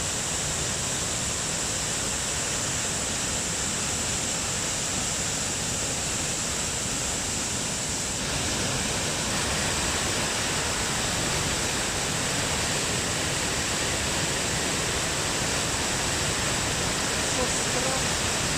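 A waterfall pours during heavy rain in Upper Austria, giving a steady, dense roar of rushing water that stays loud and unbroken throughout.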